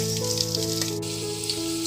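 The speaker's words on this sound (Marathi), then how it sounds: "लसूण टाकते." Garlic sizzles briskly in hot oil over a village wood-fired stove, a steady close crackle with faint stirring and small pops, while a low hum runs underneath.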